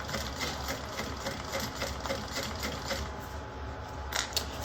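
A sewing machine runs a long top-stitching seam at stitch length 5 on a JeroniMini project, a steady rapid mechanical chatter held close and even throughout, with a slight clunk near the end.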